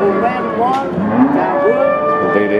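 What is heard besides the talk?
cattle mooing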